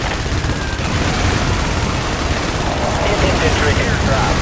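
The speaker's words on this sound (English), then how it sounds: "Airstrike approaching to designated coordinates." Dense barrage of gunfire and explosions from an airstrike in the video game IS Defense, a continuous loud roar of overlapping shots and blasts with no pauses, and game voice chatter mixed in.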